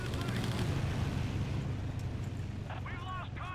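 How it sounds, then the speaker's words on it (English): Grenade explosions in a Battlefield 1942 online multiplayer match: a dense, rumbling wall of booming blasts and battle noise that stays loud throughout, with voices and radio chatter breaking in near the end. "Who's throwing grenades?"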